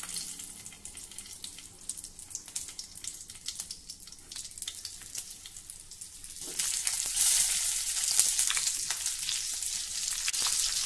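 Green chillies fry in oil with salt over a very low flame, giving a soft, crackly sizzle that suddenly swells into a loud, bright hiss partway through and then stays intense, with no talking.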